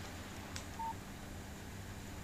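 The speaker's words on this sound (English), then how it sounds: "Text message from Barry." A short electronic phone tone sounds once, a brief clean beep alerting to a text message in the Alan Wake video game, faint over steady background hum.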